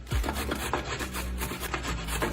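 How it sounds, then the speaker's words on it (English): A carrot is grated on the small side of a box grater, rapid rough rasping strokes repeating in quick succession, close and fairly quiet with no talk. "just grate your carrot. Run it down the graters."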